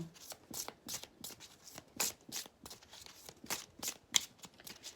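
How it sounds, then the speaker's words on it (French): Tarot cards riffled and shuffled in quick, papery bursts, a fast rhythmic series of soft flicks and slaps close by, quiet and without talking. "Allez, on prend une petite carte pour les Balances."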